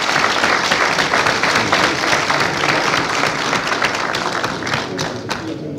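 Sustained applause from the general assembly of the Senegalese Football Federation approving a motion by acclamation, a dense, steady wash of many hands clapping throughout, easing slightly toward the end.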